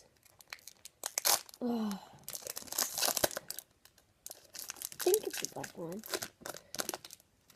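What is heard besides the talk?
tearing open a foil pack of footy cards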